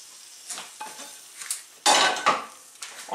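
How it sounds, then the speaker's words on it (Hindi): Gram flour is folded slowly into cooled sugar syrup for soan papdi, with irregular scraping strokes and clinks of a spoon against the pan, close and fairly loud. "और मैं अब इसको आहिस्ता आहिस्ता मिक्स करना शुरू करूँगी"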